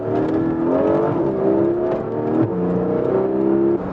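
Porsche 718 Boxster GTS 4.0 engine accelerating while driving onto a highway, a steady rising growl from behind the cabin heard from inside the car, continuous and moderately loud.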